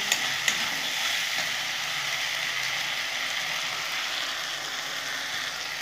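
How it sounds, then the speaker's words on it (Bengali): Spice paste with Kashmiri chili sautéing in a pan for a chicken dish, a steady close sizzle with a few light utensil clicks near the start, no voices. "এখন খুব সুন্দর করে আমি মশলাটা কষিয়ে নেব।"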